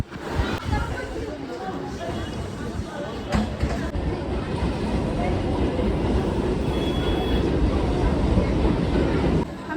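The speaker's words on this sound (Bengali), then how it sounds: "আমরা চলে এলাম রানাঘাট স্টেশনে এবার ট্রেন ধরবো" Busy Ranaghat railway station ambience with a train rumbling and clattering nearby, steady and loud, with people talking in the background.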